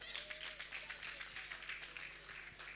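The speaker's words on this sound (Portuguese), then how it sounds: "Aplausos, mas ainda falta um." An audience applauds at a family event, a dense, steady patter of many hands clapping throughout, moderately loud with a faint murmur of voices underneath.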